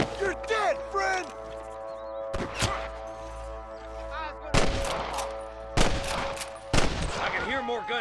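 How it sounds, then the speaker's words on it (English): Gunfire from the Western video game Red Dead Redemption: several sharp, loud broadband shots ring out in a burst near the start and then at spaced intervals later, over a steady musical and ambient game background. "I can hear more gunshots."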